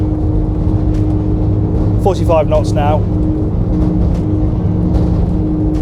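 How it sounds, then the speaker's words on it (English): Twin Yamaha V6 outboards on a Wellcraft 355 yacht howl steadily at full speed, around 6,000 RPM, a loud constant drone beneath a brief spoken phrase. "You've got that really distinctive howl from these Yamaha V6s"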